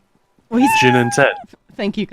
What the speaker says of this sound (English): Sorry, that's my cat. That's the cat.